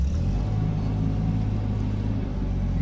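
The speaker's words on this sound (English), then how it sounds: "Let's go ahead and just go forward around the yard." A 1987 Nissan Pathfinder with a VG30i engine and Weber carburetor conversion drives around a yard, a steady, close, low engine rumble with no talk.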